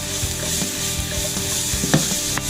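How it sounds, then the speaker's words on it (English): Mushrooms frying in a pan for a tagliatelle dish give a steady, close sizzle with light clatter as they are tossed, and no voices are heard. "the mushrooms are frying, and you can hear that"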